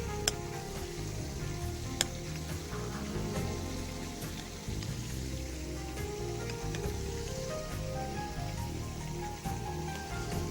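Chopped tomato fries on onions in a pan with a soft, steady sizzle like light rain, broken by a few sharp ticks and clicks of a utensil. No voices.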